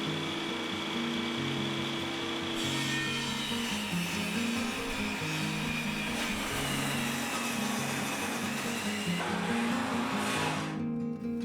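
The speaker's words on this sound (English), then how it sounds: "let's get this down and rip some boards" A power saw rips through wooden boards at a roof-framing job, a steady loud whine running continuously for several seconds alone, with no talk over it.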